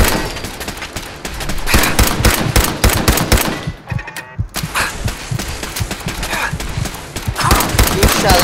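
Rapid bursts of automatic gunfire crackle loudly in Fallout 4 gameplay, dense volleys pausing briefly near the middle before resuming, with a voice talking over the shooting.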